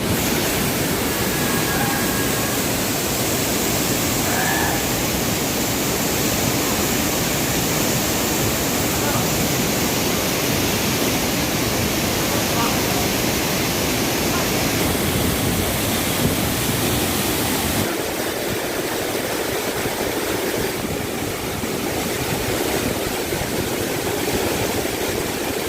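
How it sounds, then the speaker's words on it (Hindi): Mountain waterfall on the Kheerganga trek in the monsoon, a steady broadband rush of falling water that stays loud and constant throughout with no pauses. "ये वो झरना आ गया है"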